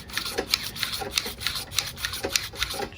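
A Honda lawnmower engine's pull-start string, freshly coated with silicone lubricant, is worked back and forth by hand, giving a series of light, close rubbing and rasping strokes in an even rhythm.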